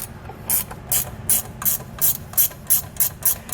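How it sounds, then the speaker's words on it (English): Ratcheting wrench snugging bolts while a Kodiak disc brake kit is installed on a trailer, a steady run of about ten crisp ratchet clicks in even rhythm, close and clear with no talking. "a ratcheting wrench works just as well"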